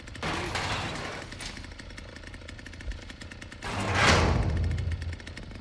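A chainsaw revs in the Texas Chainsaw video game, a rough, buzzing engine snarl that holds steady, dips, then surges louder again near the end, loud and close with no talk over it.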